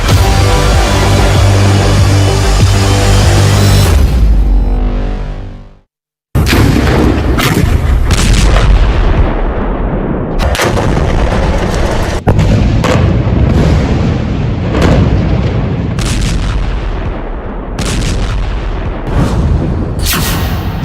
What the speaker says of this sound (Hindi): ये धमाके तो बहुत छोटे हैं